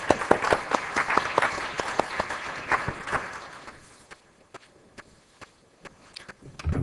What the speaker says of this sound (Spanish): Les pido un aplauso para el doctor